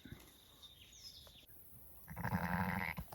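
A sheep bleats on a farm at night during a late check on ewes near lambing, with a single fairly close, wavering call near the end following a quiet stretch of faint background noise.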